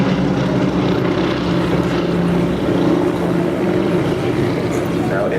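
Biplane engine droning steadily in a Breitling Wingwalkers display at the Farnborough Airshow 2012, a loud continuous propeller hum with broadband wind and crowd noise throughout.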